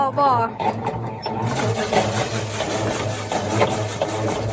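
A steady mechanical whirring and clattering of a treadle-driven rice milling machine runs continuously, close and fairly loud, with some background noise.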